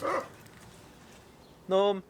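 A dog chasing pigeons lets out a short bark, then a louder, sharper bark a moment later, both close, while a person speaks briefly in between.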